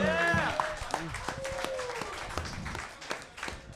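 Crowd applause and cheering at a comedy fight club main event, loud and close at first, then tapering into scattered claps with voices over it.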